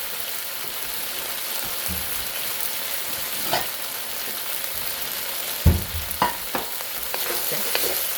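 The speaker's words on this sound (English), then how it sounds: "And always stir, keep on stir frying it." Beef stir-fries in hot oil with peppers for Szechuan beef, giving a steady hissing sizzle, with a few clanks and scrapes of the spatula near the end.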